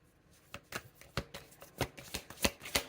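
Tarot cards being shuffled by hand, a sequence of crisp, evenly spaced slaps and riffles that grow a little louder toward the end, close and with no talking.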